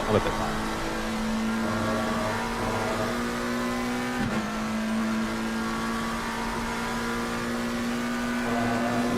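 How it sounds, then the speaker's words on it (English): A McLaren race car in the Assetto Corsa Competizione game drones steadily around Silverstone, its engine holding a sustained tone with one quick shift partway through, under continuous commentary. "I just love watching McLarens go around this track."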